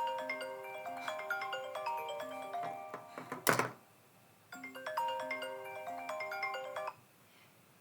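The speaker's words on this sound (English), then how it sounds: "That was my phone actually ringing" A mobile phone rings with a looping melodic ringtone in two bursts separated by a short pause and a thump, fairly clear against a quiet room.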